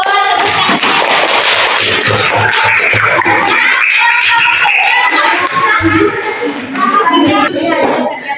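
Students in an Indonesian school classroom clap for a student group. The short bursts of handclaps are mixed with children's voices and loud chatter throughout.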